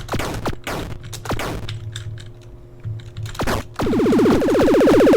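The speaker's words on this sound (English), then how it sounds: "I get the fast shot, which lets me shoot more often, helping in combat a lot" A fast-firing shot weapon in the Project Depths video game gives rapid clicky bursts of shots, dense crackling volleys near the start and a loud rapid rattling stream at the end, no voices.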